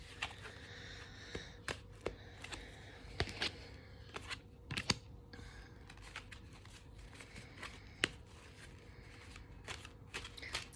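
Tarot cards being shuffled by hand, with soft riffling and flicking sounds and scattered sharp snaps, close and quiet with no talking.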